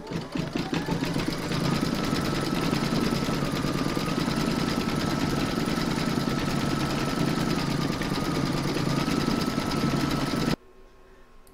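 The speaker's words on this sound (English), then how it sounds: "Next, you're going to stitch round number three, and that's going to be the cheeks." An embroidery sewing machine stitches the pink cheeks of an in-the-hoop pig applique, a steady fast motor hum and needle rattle running for about ten seconds before cutting off to quiet.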